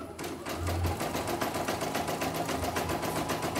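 A CNY E900 embroidery machine runs at around 650 stitches per minute, its needle hammering in a fast, steady, even rhythm close up with a low motor hum underneath.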